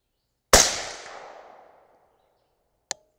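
.223 Remington rifle fired from a cold barrel with 77gr Sierra MatchKing loads: one loud sharp shot with a long decaying ring, followed by a faint metallic clink about two seconds later.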